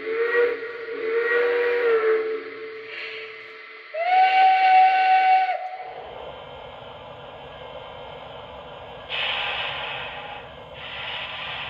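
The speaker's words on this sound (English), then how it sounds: "that kind of sounds like Lionel's old M1 whistle" Several toots of a Lionel Legacy L1 model train's steam whistle, each a sustained breathy chord, separated by pauses, fairly loud and close.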